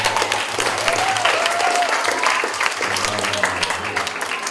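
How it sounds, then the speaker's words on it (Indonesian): Elementary schoolchildren clapping in a hall during a religious guidance session, a loud, continuous burst of dense applause with a faint voice briefly heard through it. "Ya, tepuk tangan."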